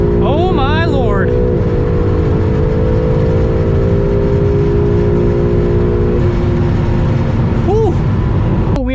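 Acura NSX in the mountains of Mexico pulling away from a standstill, engine note rising through the gears as revs climb, loud and steady, with a person speaking over it near the start.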